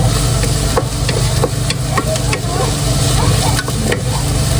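Hayashi rice with minced chicken and mushrooms cooks in a pan for lunch, giving a loud, close, continuous sizzle broken by frequent scraping and clinking strokes of stirring.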